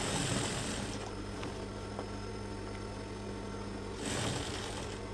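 A sewing machine stitches a shirt collar around the neckline, its steady mechanical whirr running close and continuous for about five seconds with brief louder bursts at the start and end.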